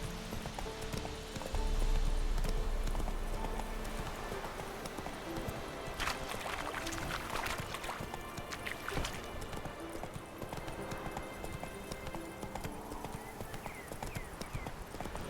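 Horse hooves galloping in The Witcher 3 video game, a steady fast clip-clop over continuous ambient game sound, with occasional louder rustling bursts and a faint neigh, moderately close.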